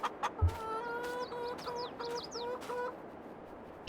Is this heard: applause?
no